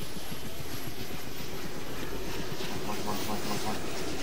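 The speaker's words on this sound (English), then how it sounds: "Go, chopper," A helicopter in the video game DayZ flies with a steady, loud, close whirring drone and a rhythmic rotor chop that runs without a break.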